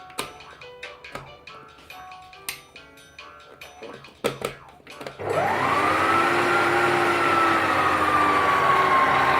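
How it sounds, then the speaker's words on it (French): A stand mixer starts up beating egg whites for a macaron meringue at low speed, a steady loud whirring hum with a slowly settling pitch, preceded by a few clattering kitchen knocks. "pour commencer la meringue, on va lancer les blancs plutôt doucement"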